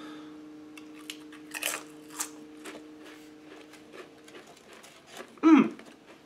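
Crunchy Pringles Brazilian salsa chips being bitten and chewed up close, a few quiet crisp crunches with one louder bite near the end.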